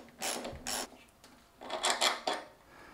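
A 13 mm spanner works a long stainless steel bolt loose on a BMW 1150GS fuel tank, giving short metallic ratcheting and scraping bursts, two quick ones and then a longer cluster, close and fairly quiet.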